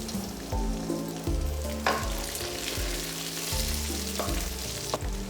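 Coconut pieces frying in a pan, a strong steady sizzle with regular stirring and spatula scrapes over several seconds, close and alone.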